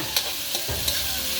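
Tomatoes are stir-fried in a pan, giving a continuous sizzle broken by a few distinct scraping strokes of a spatula against the pan.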